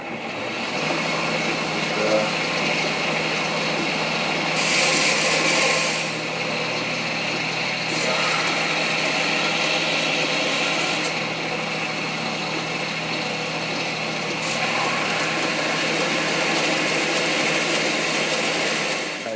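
A variable speed grinder running at about half speed shapes a knife guard for a hidden tang handle, giving a steady close mechanical whine with rougher grinding surges as the metal is pressed against it.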